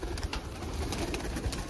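Green pigeons cooing in a loft, soft low murmuring calls heard close amid faint rustling and background noise, with no talk.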